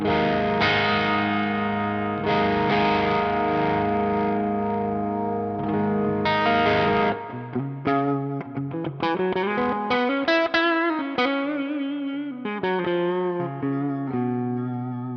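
Electric guitar through an NRG Reactor IV amp on its crunch channel, crunchy overdriven tone playing sustained chords, then a string of picked notes, with a touch of reverb.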